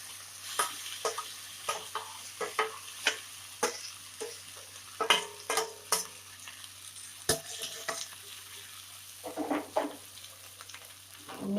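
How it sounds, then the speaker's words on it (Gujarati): Soaked millet rotlo flatbread sizzles in a hot pan while a spoon stirs it, giving a series of rhythmic scraping clicks over a soft, steady frying hiss. "હવે આપણે રોટલો જે પલાળીને રાખ્યો છે એ આમાં એડ કરી દઈશું"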